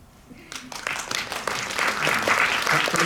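An audience at a film screening Q&A breaks into applause, starting scattered and building to steady clapping from many hands.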